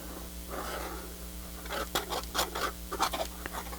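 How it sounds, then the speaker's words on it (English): Soft scratchy rasping of a nib dragging across paper, a series of short gritty strokes growing more frequent toward the end, close up over a low steady hum. "It's that nib pressing on the paper."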